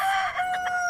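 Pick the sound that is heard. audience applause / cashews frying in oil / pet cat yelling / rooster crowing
rooster crowing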